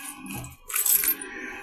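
Coins are handed over and dropped, with a short metallic jingle and clatter of loose change that peaks midway. The sound is near and has no voices over it.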